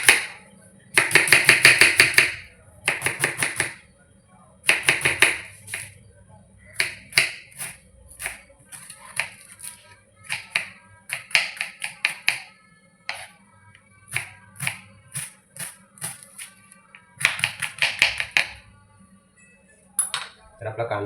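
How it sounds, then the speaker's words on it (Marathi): An onion is finely chopped with a knife, giving close, crisp bursts of rapid rhythmic tapping separated by short pauses, with no talking. "तर आपला कांदा चिरून झालेला आहे."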